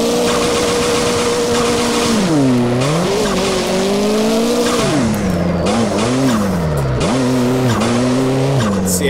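Cars drift in the Assetto Corsa racing game with continuous loud tire squeal, the pitch swooping up and down as the engine revs rise and fall through each slide.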